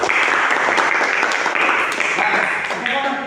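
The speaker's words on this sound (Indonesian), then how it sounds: "Tepuk tangan untuk nomor 3" Schoolchildren in a classroom clap together in a full, continuous round of applause, fairly loud and close, fading slightly toward the end.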